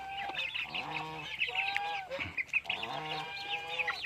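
Farmyard geese, ducks and chickens: repeated nasal honks and calls overlapping in bursts, close and fairly loud, with no talking.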